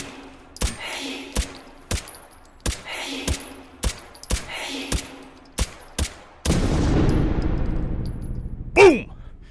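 Pistol gunshots in the VR shooter H3VR fire at a steady pace, about a dozen sharp, loud cracks. A burst of denser noise follows, then a final ringing impact, with no talking.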